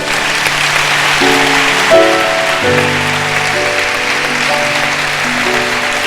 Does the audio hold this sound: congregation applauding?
yes